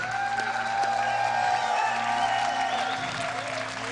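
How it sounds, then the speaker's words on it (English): Crowd applause and cheering for team Complexity Red at the BlizzCon World of Warcraft grand finals, a steady wash of clapping from a large arena audience with a faint tone running beneath it. "let's give a big round of applause for Complexity Red"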